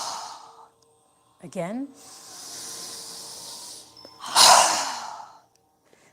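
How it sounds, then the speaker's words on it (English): Forceful breaths exhaled through the mouth during a yoga session, heard as a long hissing sigh and a louder breathy exhale, with a brief spoken word between them. "Exhaling with a strong breath."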